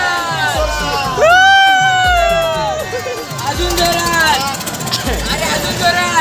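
A crowded fair at a yatra in Nashik, loud festive hubbub with shouting voices, excited cries and a thumping rhythmic beat running under the noise.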